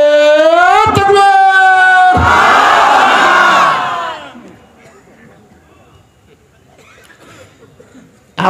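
A large crowd at a Bengali religious sermon gathering roars back in unison after a takbir call, a loud sustained collective shout that fades after a few seconds into quieter murmuring, preceded by a speaker's amplified call.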